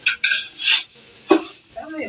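Rice grains being dry-fried in a pan, with a few sharp metal scrapes and clinks from a spoon stirring against the pan bottom, close and intermittent over a quiet background.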